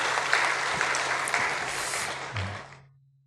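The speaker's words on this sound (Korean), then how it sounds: "자, 박수로 하나님께 영광 올려드립시다." A church congregation at a Sunday worship service gives a steady round of applause, dense and fairly loud, which fades away in the last second into quiet with a low hum.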